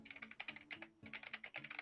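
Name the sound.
someone typing on a computer keyboard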